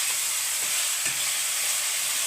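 Paneer kasundi ingredients, seasoned with salt and a little sugar, fry in a pan with a steady, hissing sizzle, close and unbroken, with no voices.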